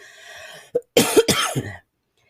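A speaker under the weather gives a short run of harsh, close coughs, three or four bursts in about a second, after a faint hum of background noise and with silence following.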